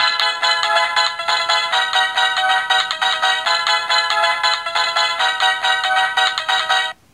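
A Tomy Super Mario Invincibility Star plush plays its bright electronic chiptune jingle, a steady, loud, busy melody running for about seven seconds before cutting off abruptly.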